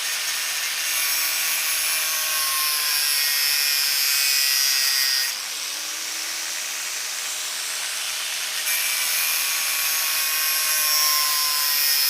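A cutter slices through the ends of an old, damaged lithium-ion battery, giving a steady, loud, high hissing whine with slight shifts in pitch partway through. No voices.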